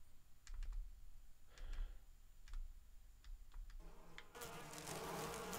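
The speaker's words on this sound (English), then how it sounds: "Oh, there's a giant beehive in the hole." Bees from a giant beehive in the Resident Evil HD video game buzz in faint bursts with clicking sounds, then swell into a louder, denser swarm drone near the end.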